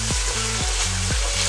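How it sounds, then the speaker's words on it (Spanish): Bacon frying and rendering its fat in a pan for a chickpea sofrito, a loud, dense, continuous sizzle with a few sweeping tonal swoops layered over it. "El tocino se añade primero porque este va a soltar grasa y va a enriquecer a la preparación del sofrito."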